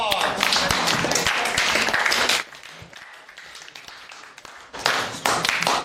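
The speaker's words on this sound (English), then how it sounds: "Okay, everybody give a round of applause." A group of JROTC cadets applauds in two dense bursts, a long loud round at the start and a shorter one near the end, with quieter chatter and scattered claps in the gap between them.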